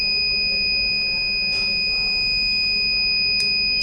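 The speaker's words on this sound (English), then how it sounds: "So here we can see buzzer will turn on." An Arduino battery management system's buzzer sounds a loud, continuous high-pitched electronic tone for the whole stretch, steady and close, with faint clicks behind it.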